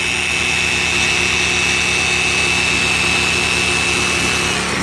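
A Flex 3401 polisher runs at full power off a Black Max BMi2100 portable generator, giving a loud, steady high-pitched motor whine with an even hum beneath, continuous and alone.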